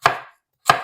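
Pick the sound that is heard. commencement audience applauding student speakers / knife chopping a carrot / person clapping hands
knife chopping a carrot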